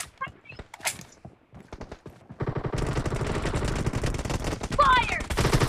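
Rapid gunfire from an online first-person shooter's 8-versus-8 team deathmatch on a Santorini map crackles in dense bursts after a quieter opening, continuing steadily with a player's talk mixed in.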